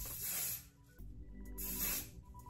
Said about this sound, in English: I'm gonna spray hairspray right here